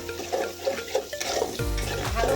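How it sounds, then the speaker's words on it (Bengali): Spices fry in oil in a pan for a tomato-style tilapia curry, a steady close sizzle with stirring scrapes, louder and denser in the second half. "এবার ভালো করে এগুলাকে ভেজে নেবেন।"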